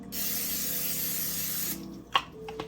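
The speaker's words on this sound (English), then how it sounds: "I'm just gonna spray some nonstick spray" A steady, close hiss of nonstick cooking spray onto a pan lasting under two seconds, then stopping, followed by a couple of light clinks and a faint tone.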